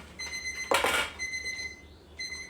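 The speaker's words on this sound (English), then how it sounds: "So that's the timer on our egg there." A kitchen timer rings in repeated electronic bursts of steady high tones, with a brief loud rustle partway through.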